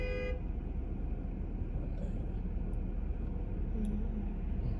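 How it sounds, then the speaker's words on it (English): A car horn toots briefly at the start, set against a steady, loud rumble of road traffic and engine noise that continues throughout. "Oh, somebody's honking?"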